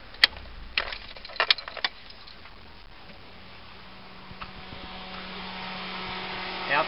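A passenger-side radiator cooling fan on a 1996 Honda VTEC runs with the ignition off, a steady broadband whoosh that swells slightly after a few sharp clicks at the start.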